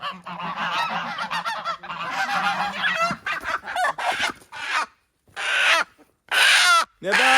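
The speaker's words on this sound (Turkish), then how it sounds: "gördüğünüz gibi tavuklarımızı, kazlarımızı saldık" Geese honk repeatedly and loudly nearby in bursts of harsh, nasal calls, with chickens and a voice mixed in at times.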